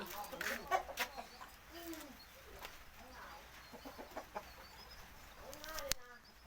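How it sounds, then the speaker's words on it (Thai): Hens cluck in short irregular bursts close by, with a few louder squawks mixed in, over a busy background at a large Thai cockfighting venue. "นี่แม่ไก่ครับ"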